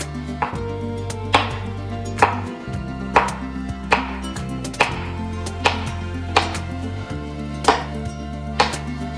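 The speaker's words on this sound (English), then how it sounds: "we're going to cut this baby up like so" A kitchen knife chops food on a cutting board while chilli con carne is prepared, with about ten sharp, close chops in a fairly steady rhythm and no voices.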